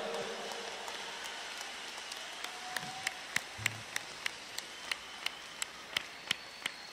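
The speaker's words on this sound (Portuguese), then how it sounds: "Vamos dar uma salva de palmas para esses irmãos incríveis aqui" A church congregation at a 35th-anniversary celebration claps, starting as scattered soft applause and settling into steady, rhythmic single claps that ring out sharply and evenly in a reverberant room.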